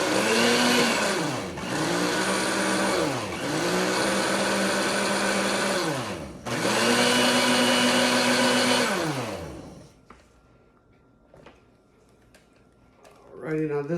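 A countertop blender whirs loudly while mixing fruit salad, the motor surging in several long bursts with brief dips between, then cutting off to near quiet before a faint rustle at the end.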